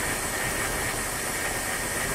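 A 1979 Dodge W300 truck engine, restarted after sitting unused for 13 years, idles continuously with a steady rumble and a hissing, broadband texture, no pauses, close by and fairly even in level.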